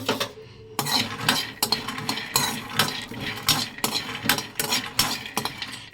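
Peanuts roasting in a pan on low flame, stirred with a utensil: repeated scraping and rattling clinks of metal against the pan in an irregular rhythm, close and fairly loud, with no talking.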